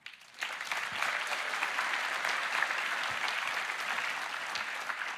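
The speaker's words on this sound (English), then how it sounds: "So I want to give a huge round of applause to these two games for the milestones they achieved." A large audience at the Roblox Developers Conference keynote bursts into applause after a brief quiet start, holding a steady, even clapping roar for several seconds.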